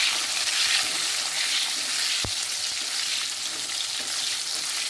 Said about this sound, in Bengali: এই টমেটো কুচিগুলো দিয়ে দেবো। টমেটোগুলো দিয়ে একটু নাড়তে থাকবো।